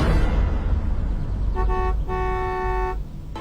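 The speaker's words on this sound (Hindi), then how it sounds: "लेकिन कुछ ही देर बाद एक कार की हॉर्न ने" A car horn in a Hindi audio drama scene: a brief honk, then a longer steady toot lasting about a second, sounding over a loud rumbling background of road noise.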